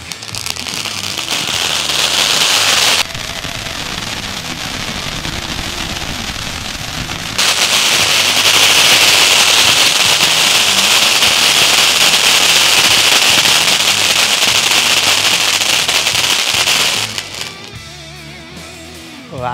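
Kingster firecrackers from Sivakasi burst in long, dense crackling volleys, loud and close, with a brief change in intensity partway through before fading near the end.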